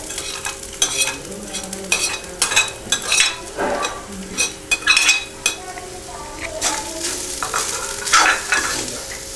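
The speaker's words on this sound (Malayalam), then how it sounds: "തേങ്ങ നല്ല ബ്രൗൺ കളറാവുന്നത് വരെ വറുത്തെടുക്കുക" Grated coconut frying in coconut oil in a hot pan makes a close, loud sizzle, with repeated stirring scrapes and clinks of a spoon against the pan in an uneven rhythm.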